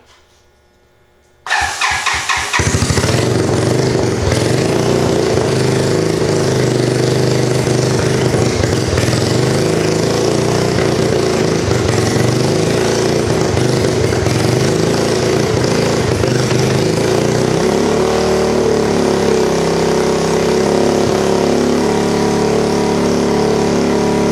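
A 1986 Honda Fourtrax 200SX ATV engine starts after a moment of quiet, then idles and runs loud and steady close by, its tone dropping slightly near the end, with no voices over it.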